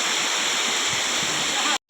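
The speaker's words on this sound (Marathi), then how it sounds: "तर गावाला फायनली आपण पोचलो धबधब्यावरती" Waterfall at Harkul Khurd in the Konkan countryside, a steady, loud broadband rush of falling water that fills the clip without a break before stopping abruptly.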